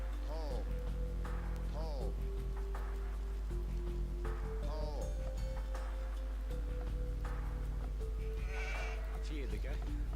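Sheep bleat in Age of Empires 2, a string of short wavering calls recurring every couple of seconds against a steady low hum, with a person talking continuously over them.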